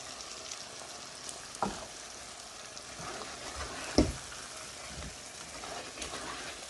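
Cubed potatoes hit a hot pan for a potato and pea curry, giving a faint, steady sizzle of frying with a few soft clatters and thumps as the pieces land.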